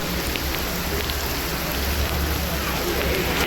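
Steady rain pours down on Himavad Gopalaswamy Betta, a hill with a temple, making a dense, continuous hiss that stays close and even throughout with no pauses.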